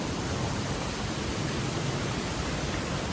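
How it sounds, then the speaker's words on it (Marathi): A small roadside waterfall at a bend near Ratnagiri rushes continuously, a steady broadband wash of falling water heard close and even throughout, with no voices. "या टर्नला बरोबर इकडे वॉटरफॉल आहे छोटासा बघू शकता"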